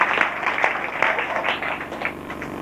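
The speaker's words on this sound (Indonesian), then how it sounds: "Oh berikan tepuk tangan yang meriah buat Tuhan." A church congregation claps for God at a preacher's call, a steady wash of many hands with some sharper individual claps standing out, filling the room at moderate loudness throughout.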